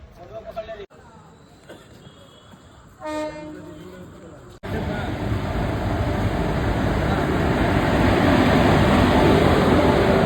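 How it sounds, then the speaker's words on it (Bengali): The Gour Express pulls into a station platform at night; talk and a brief horn come first, then a loud, steady rumble of the train rolling in fills the rest. "রাত 11:18 গৌড় এক্সপ্রেস ঢুকছে"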